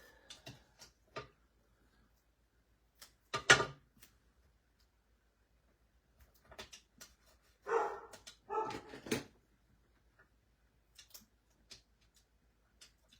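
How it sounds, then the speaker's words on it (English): A few short, sharp dog barks in scattered bursts, fairly close, with quiet gaps and faint ticking between them; no talking. "As usual, when I'm doing a video, my dog has decided to bark."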